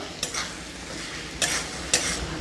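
Fried potatoes with tomato and spices stirred and sautéed in a pan while cooking red lentil dal, a steady sizzle broken by three scraping stirs of the spatula, close and alone with no talk.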